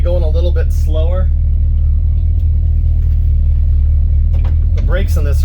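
A 1976 factory big-block Chevrolet C10 Suburban's engine rumbles with a deep, steady exhaust drone through two 40 series Flowmaster mufflers, loud and close, while someone talks over it at the start and end.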